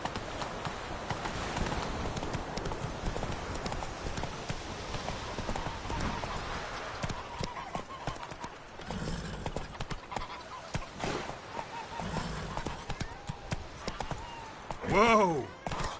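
Roach the horse from The Witcher 3 trots with steady rhythmic hoof clip-clops, close and continuous, while someone speaks over it and a whinny rises near the end.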